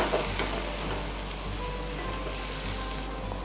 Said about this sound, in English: Once the pan is hot, we will add in the chopped garlic, sliced ginger, and diced onion.